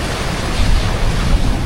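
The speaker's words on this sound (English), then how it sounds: "ocean waves continue to pound the coast of Nha Trang relentlessly" Storm-driven ocean waves pound the coast at Nha Trang, Vietnam, a steady, loud roar of surf and wind with heavier surges about halfway through and near the end.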